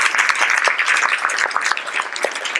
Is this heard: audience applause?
yes